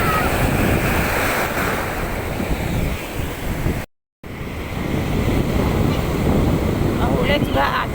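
Sea waves surge and break on a beach in a steady loud roar, mixed with wind buffeting the microphone and broken by a brief silent gap partway through.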